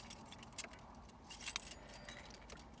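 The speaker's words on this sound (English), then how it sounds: "I checked that his keys were on his key ring" Keys jingle on a key ring in a car: soft, faint metallic clinks come in a few brief shakes, with a louder rattle around the middle, over quiet background hum.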